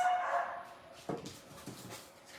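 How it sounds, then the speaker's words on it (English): A pet dog whimpers and gives a few short yips and barks indoors, moderately close, the sounds coming in brief bursts over a quiet room background. "usually you don't hear my dogs during my videos at all, but this week she's been just a crazy dog"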